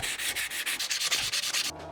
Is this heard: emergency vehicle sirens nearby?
no